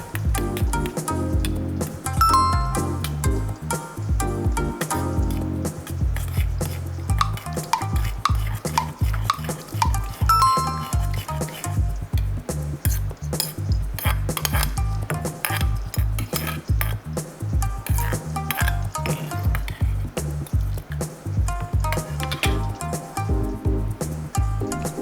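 A utensil stirs a pot of cabbage and bacon soup to dissolve miso, giving steady, rhythmic clinks and scrapes against the pot, close and clear, with no voices.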